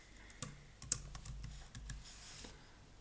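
Quiet keystrokes patter on a computer keyboard as a connection name is typed, a few sharper clicks standing out in an irregular typing rhythm, close and faint with no talking.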